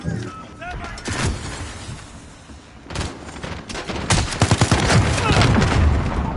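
Gunfire in a PS4 video game battle, rapid overlapping bursts and booms rising into a sustained volley near the end, loud and close, with voices mixed in.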